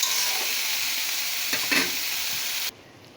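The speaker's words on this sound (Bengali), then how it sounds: "একটু নাড়াচাড়া করে একটু ভালো করে ভাজা ভাজা ভাজা মতো করে নেব" Ridge gourd frying in a pan while being stirred, a loud steady sizzle with a few scraping strokes that cuts off abruptly near the end.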